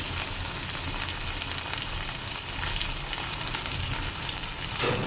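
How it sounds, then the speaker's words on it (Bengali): Ground spices such as coriander, chili, turmeric and cumin sizzle steadily in hot oil for a cabbage and potato fry, with a constant dense crackle and faint stirring throughout and no talking. "আমি এখন এইভাবে তেলে একটু নেড়ে নেব।"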